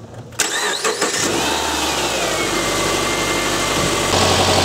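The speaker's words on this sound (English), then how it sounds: "but I'll start the vehicle" A 2010 Subaru car engine cranks briefly and catches, then settles into a steady close idle that runs alone to the end.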